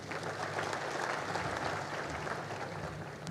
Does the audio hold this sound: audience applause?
yes